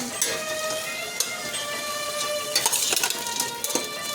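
Greens sizzling and being stirred in a hot pan, a steady soft frying hiss broken by occasional scraping and clinking of a spoon against the metal.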